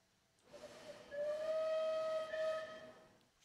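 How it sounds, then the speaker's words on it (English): A steam whistle on a West Country class locomotive in Train Simulator sounds as one loud, sustained tonal blast lasting about two seconds. It rises out of a hiss of escaping steam and fades back into the hiss, with no voices. "To figure out which one was the whistle."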